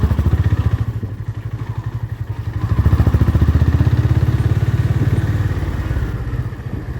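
A new motorcycle rides along a road, its engine droning loud and steady with a rhythmic low pulse that swells in the middle and holds to the end, with no voices.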